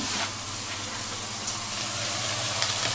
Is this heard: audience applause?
no